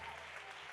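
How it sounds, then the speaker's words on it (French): Congregation applauding during a church retreat service, a brief steady wash of clapping at moderate distance with no distinct voices. "Est-ce qu'on peut applaudir? Applaudissez pour le Seigneur."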